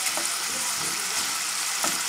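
Tender veal sizzles steadily in a hot pan, a continuous close frying hiss with a few soft stirring scrapes and no voices.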